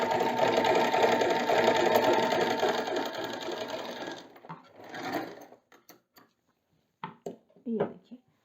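An Usha Janome Wonder Stitch sewing machine runs steadily for about four seconds stitching a design, then stops, followed by scattered clicks and handling knocks, close and clear with no talking.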